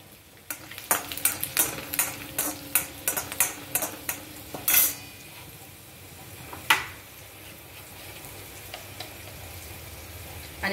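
Garlic frying in oil for a tadka for Marathi dhaba-style lasuni methi, with utensil clinks and stirring taps over a soft, steady sizzle.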